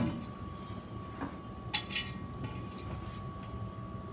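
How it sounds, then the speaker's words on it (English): A pot of lentils being set on a stove: a couple of faint metallic clinks and a light clatter over a quiet background hum. "So I'm gonna put it on the stove and at medium heat and allow it to cook."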